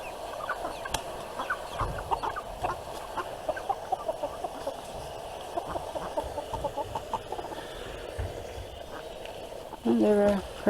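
Meat chickens cluck and chatter on a farm, with a continuous busy flock murmur, close and moderately loud, and a louder burst of other noise near the end.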